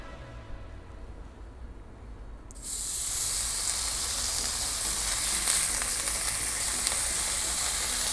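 Quiet room noise, then at once a loud, steady broadband sizzle of bacon frying in a pan that continues without a break.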